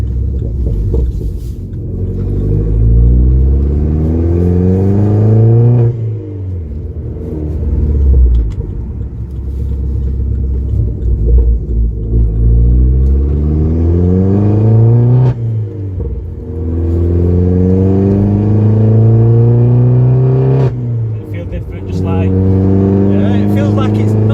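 A tuned stage 3 Vauxhall Corsa VXR engine revs hard and loud in repeated climbing sweeps, dropping back between pulls, close by with a deep rumbling tone throughout.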